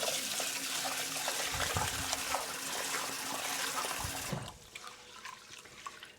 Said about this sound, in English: 3 to 4 times of just passing it through water is enough